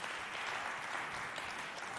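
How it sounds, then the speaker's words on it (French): Audience applause for two players at a youth quiz match between a neighbourhood house and a parish youth group, a faint, steady wash of clapping held evenly for two seconds. "On les applaudit bien fort, s'il vous plaît."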